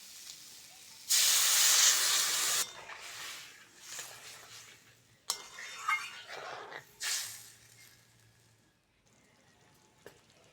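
Water goes into a hot pan of vegetarian curry with turmeric, chilli, salt and ground cumin, setting off a loud burst of steaming hiss that fades into softer sizzling and bubbling, with a few quieter flares after.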